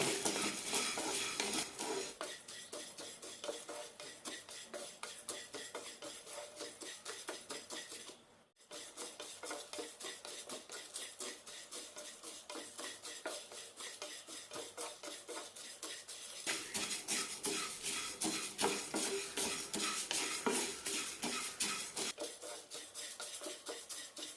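Lentils and rice dry-roasted with curry leaves in a pan for flaxseed idli podi, the spoon scraping and stirring steadily and loudly throughout, with a brief pause partway through.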